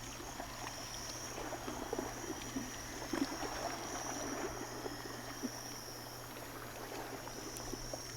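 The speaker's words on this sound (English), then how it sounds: "Another waterfall there." A waterfall feeding a forked river in the humid swamp camp of the video game Gothic Remake, a faint, steady rushing wash with soft insect-like chirps and small splashy ticks over a low hum.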